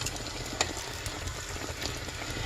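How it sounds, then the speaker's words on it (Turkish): Steady, soft sizzling of dough frying in hot oil in an aluminium pot, with scattered light crackles and pops. "alüminyum kızartma tenceresinde kızartıyorum"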